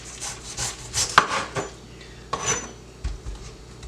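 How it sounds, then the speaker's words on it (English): A knife cuts into a clean cabbage for sauerkraut, making a close series of crisp crunches, scrapes and board knocks in an irregular rhythm. "So for the next step, you're going to cut your cabbage."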